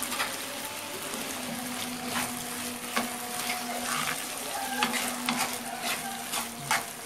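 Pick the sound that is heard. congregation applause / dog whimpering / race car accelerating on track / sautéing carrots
sautéing carrots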